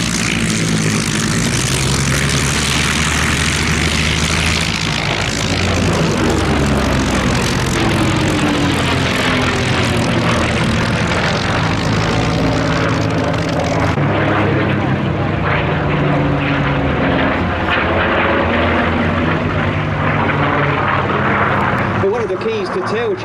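Propeller warbirds pass in a three-ship tailchase formation, led by a P-38 Lightning with a P-51 Mustang and an F4U Corsair trailing: a loud, continuous droning roar of piston engines with shifting pitch. A voice talks over it throughout.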